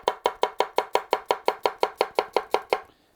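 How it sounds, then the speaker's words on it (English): A Wüsthof 6-inch chef's knife tap-chops vegetables with the middle of the blade on a board, about fifteen crisp, evenly spaced close knocks in a fast steady rhythm, then silence. "Most tap chopping, that's what you're doing. You're using the middle."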